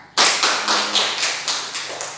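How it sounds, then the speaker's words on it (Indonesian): Class clapping for a group's score, a burst of about eight rhythmic, evenly spaced claps in unison, close and fairly loud, then fading slightly. "Angkat tepuk tangan"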